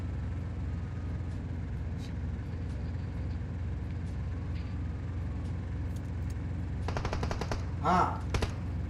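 Rapid bursts of automatic gunfire from the mobile battle-royale game PUBG Mobile crackle near the end, preceded by steady engine-like background drone and a few scattered shots, with players talking over it.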